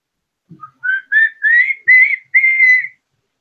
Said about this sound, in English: What is that whistling?